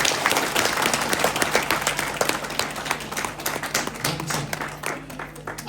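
Wedding guests at a Christian church ceremony in rural Nepal break into sustained, steady applause right after the couple is pronounced married, a dense wash of clapping that carries on for several seconds.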